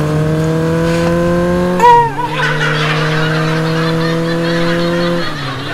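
A loud, shrill tonal whine from a new electric bike, held steady with a sudden warble and pitch dip partway, close and continuous.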